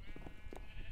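Sheep in a video game bleat faintly under a steady background hum, giving a few short wavering calls close together.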